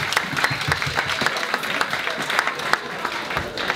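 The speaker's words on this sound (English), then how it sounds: "give a round of applause" An audience at a cancer charity event claps for a prize winner, scattered moderately distant clapping with individual sharp claps, at a fairly low level throughout.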